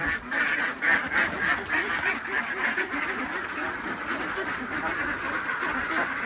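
A flock of young Khaki Campbell laying ducks quacks continuously, a loud, dense chorus of overlapping calls close by with faint talk underneath.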